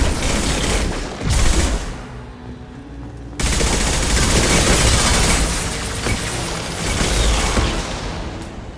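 Dense, loud automatic turret fire in the video game Mass Effect 2, sustained rapid bursts with a short lull and heavy booming impacts, crowding out everything else.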